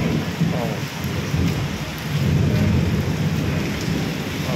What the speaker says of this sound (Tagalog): Maririnig nyo mga kabisnes, ang lakas ng kulog.